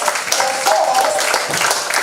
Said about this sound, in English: with a standing ovation and a sounding applause, join me in welcoming